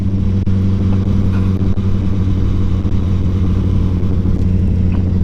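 A Honda CBR1000 SP1 motorcycle with an old aftermarket exhaust drones steadily and loudly throughout, a continuous noisy engine note with no talk.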